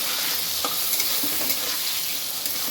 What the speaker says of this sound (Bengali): পুরো লাল লাল করে ভেজে নেব হলুদ দিলাম